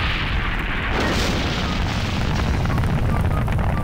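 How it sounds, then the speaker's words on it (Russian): A rocket launches in Garry's Mod, a loud continuous roaring rumble with a surge of blast noise about a second in, sustained to the end without speech. "Ракета полетела."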